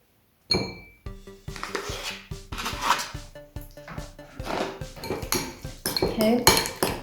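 Cream cheese, one 175-gram packet, goes into a bowl for mixing, with close clinks and knocks of utensils and dishes in an irregular run of bumps and scrapes.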